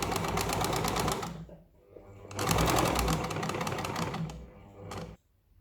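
Sewing machine stitching umbrella kurti fabric, running in two close, steady rapid-ticking bursts separated by a pause, with a short final burst before stopping.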